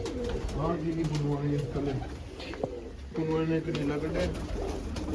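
Pigeons kept by a fancier coo in repeated low rolling phrases, close and clear, with a few softer calls between bouts and some background noise.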